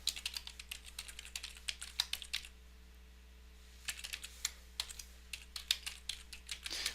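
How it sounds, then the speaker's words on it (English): Someone types an email on a computer keyboard, rapid bursts of close, crisp key clicks with a short pause in the middle, over a low steady electrical hum. "So now, of course, we type our email in here."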